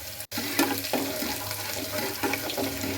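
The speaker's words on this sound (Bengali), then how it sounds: "এবার একটু রসুনগুলোকে ভেজে নেব" Garlic fries in oil for a Bengali chicken curry, sending out a continuous close sizzling hiss with bursts of crackle after a brief silent gap at the start.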